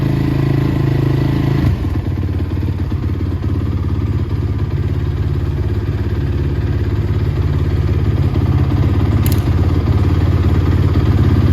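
Yamaha Banshee 350 engine runs close by after a choked start, settling into a loud, steady idle with a rough, clattering two-stroke burble that continues without a break.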